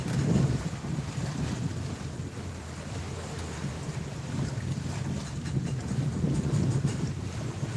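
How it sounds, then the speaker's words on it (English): A sailboat under way at night in calm conditions, with a steady low rush of water along the hull and wind across the microphone, fairly even and continuous throughout. "Quietly sailing to our next location."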